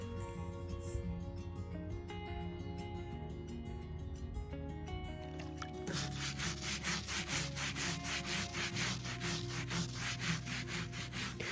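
Wood furniture is scrubbed to remove dried oven cleaner, brisk rhythmic rubbing strokes that grow louder and faster midway, heard over background music.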